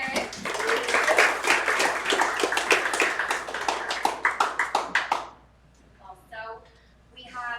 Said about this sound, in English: round of applause for Eric